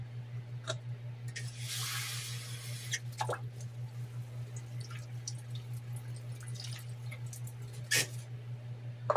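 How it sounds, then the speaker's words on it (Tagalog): Water added to a cooking pot of vegetables: a short hissing pour near the start, followed by scattered drips and small splashes over a steady low electrical hum in a quiet kitchen. "Tapos maglagay tayo ng tubig guys."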